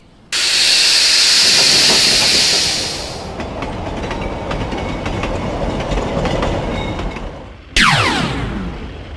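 A small train runs along its track with a steady hiss and light clicking rhythm, then a brief whooshing pass near the end.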